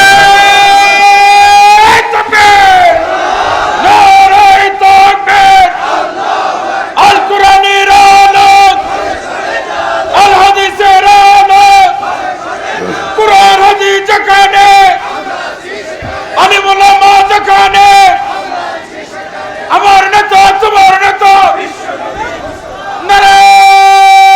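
A large gathering at a religious sirat mahfil roars a loud, rhythmic chant in unison, repeated in several surging bursts answering a takbir call, with brief pauses between each mass shout.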